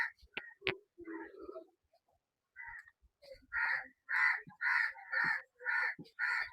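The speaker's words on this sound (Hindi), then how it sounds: "कौआ हुआ।" Crow caws repeated six times in a steady rhythm, loud and fairly close, following a few scattered short sounds and a brief bird call.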